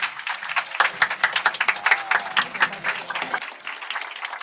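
Audience applause at an indoor corporate sharing event, a dense burst of many hands clapping loudly that gradually thins and softens toward the end.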